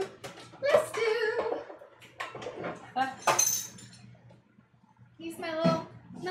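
Small baking pan fetched in a home kitchen while baking muffins, with scattered clinks and clatters of metal and dishes between bursts of adult and child conversation.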